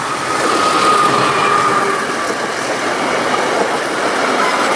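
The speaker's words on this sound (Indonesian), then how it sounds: "Wow, mantul teman-teman, ada kereta api KAI." A toy KAI train runs continuously with a rattling, hissy mechanical rumble, fairly loud and steady throughout with no talking.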